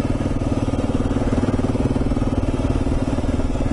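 A motorbike engine idles and rumbles steadily at close range while rolling slowly down a big hill on Main Camp Creek Road, a continuous low drone with no talk over it.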